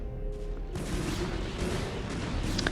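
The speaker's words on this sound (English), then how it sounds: "these cannons, yeah, having a nice time killing the vultures" Photon cannons fire at Terran vultures in StarCraft: Brood War, a dense barrage of booming shots and explosions layered over game noise, loud and continuous.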